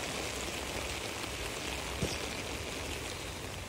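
Steady rain without thunder falls on a house and its soaked porch, a soft, even hiss of drops on surfaces that stays faint and continuous, with no voices.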